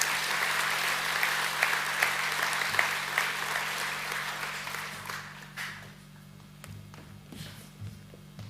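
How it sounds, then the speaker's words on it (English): An audience at a boys' school academic assembly applauds award winners, a broad wash of clapping that stays steady for several seconds and then thins out into scattered claps and shuffling footsteps, under a low steady hum. "Please give a round of applause for the Year 9 Academic A winners."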